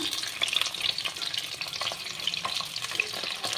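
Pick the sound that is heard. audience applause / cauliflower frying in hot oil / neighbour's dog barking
cauliflower frying in hot oil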